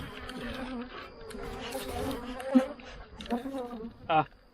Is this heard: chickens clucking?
no